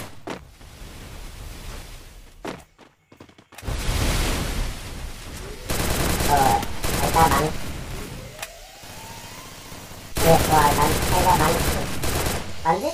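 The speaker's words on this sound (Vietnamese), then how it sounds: "Bắn rất chi nhiều các bạn ạ." Heavy gunfire in the Free Fire battle game comes in loud, dense bursts separated by short quieter gaps, with someone talking over the shooting.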